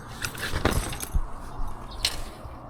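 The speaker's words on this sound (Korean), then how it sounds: "이렇게 스마트 키가 있는데 이걸 그냥 가방에 넣은 상태로" The smart key of a 2025 Yamaha MT-09 SP motorcycle is dropped into a bag, making a few light metallic jingles and soft clinks over about three seconds, close and fairly quiet.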